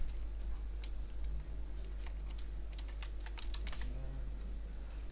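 A computer keyboard clicks as a new Tumblr title is typed, with quick, close keystrokes in irregular bursts over a constant low background hum.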